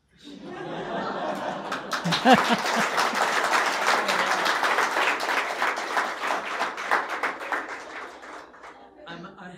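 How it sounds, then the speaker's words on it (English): Scattered audience clapping mixed with laughter and chuckles at a talk, a dense steady patter of many hands that holds for several seconds, then thins out toward the end. "That was not very courageous clapping."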